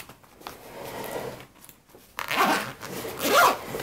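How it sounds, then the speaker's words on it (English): A zipper on a craft supply bag packed for a scrapbooking crop is pulled shut in a couple of quick, close rasping strokes after a brief quieter rustle. "So I'll zip it up"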